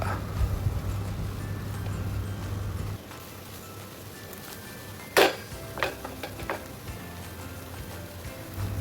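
A spoon scrapes and clinks against a pan while a bean stir-fry (vanpayar thoran) is stirred, giving faint, irregular ticks and one sharper knock over a low hum.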